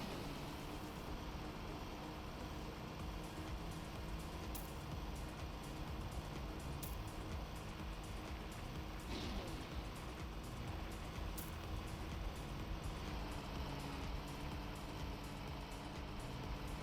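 A snow car engine in the Trackmania racing game drones steadily in a low, constant tone, with a few brief higher blips, under no talk.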